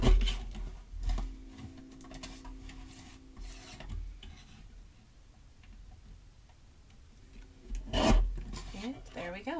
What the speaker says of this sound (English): this little trimmer is perfect